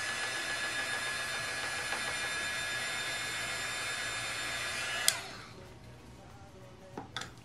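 A heat tool blowing hot air over a handmade paper flower, a steady loud whirring hiss that cuts off abruptly around two-thirds through, followed by faint clicks and handling noises in a quiet room.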